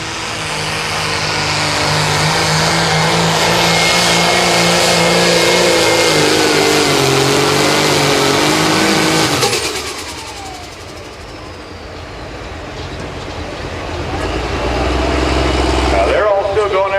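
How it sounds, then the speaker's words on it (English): A John Deere 7800 pulling tractor roars at full throttle during a limited pro stock tractor pull, a loud sustained engine howl that drops off sharply partway through, then swells again near the end, with an announcer talking over it. "The full throttle Deere."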